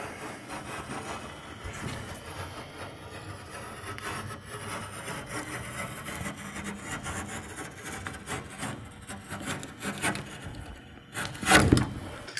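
A utility knife scoring a sheet of 5/8 inch drywall, a faint, close, drawn-out scratchy rasping with a sharper burst near the end.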